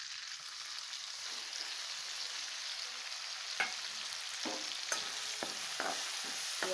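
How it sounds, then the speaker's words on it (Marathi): Chopped green chili and garlic sauté in oil for a spinach bhaji. A steady soft sizzle runs throughout, and sparse sharp scrapes and clicks from stirring come in the second half. "हे अशी तेलात परतून घ्यायची आहे."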